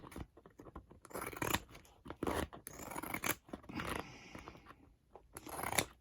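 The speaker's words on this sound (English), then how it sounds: "Now what I'm doing is, you know, as you know from the last one I did, that I'm just cutting off the edges." Scissors snip off the edges of metal envelope clasps in a quick series of close, crisp cuts with small scraping and handling noises between them, quiet overall.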